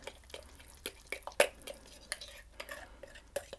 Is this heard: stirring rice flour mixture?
yes